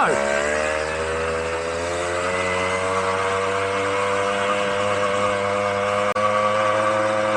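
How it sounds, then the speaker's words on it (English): Vintage Clark Scamp 50cc moped engine and gearbox straining hard uphill, a loud steady high-revving drone with whining harmonics held throughout. "Gearbox winding its head off"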